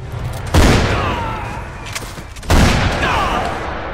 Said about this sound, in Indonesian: dia dikagetkan dengan kemunculan seorang kameramen yang membuatnya harus mati ditembak Starly